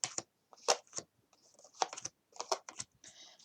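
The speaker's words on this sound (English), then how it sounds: "Sometimes I'll just grab a deck and shuffle," A deck of tarot cards gets shuffled up close in quiet, irregular bursts of crisp riffling and flicking, with short silent gaps between them and no talking.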